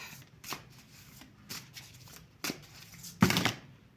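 Tarot cards are shuffled in short riffled bursts, four quick papery rustles at roughly one-second intervals, close and quiet with the last burst the loudest.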